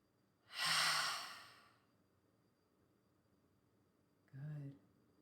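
Deep breaths during a gentle yoga hip stretch: a long, airy exhale up close, then after a pause a shorter, softer inhale with a slight throaty edge, in a quiet room.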